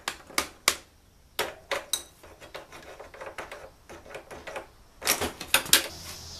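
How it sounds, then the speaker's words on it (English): Metal clanks and scraping while prying a rear shock absorber off a cafe racer motorcycle, a series of sharp irregular knocks and taps with quieter gaps between them, close and alone. "And just pry this shock off."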